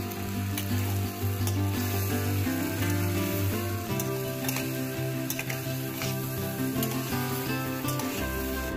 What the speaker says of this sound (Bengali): এবার দিয়ে দিচ্ছি নারকেল বাটা।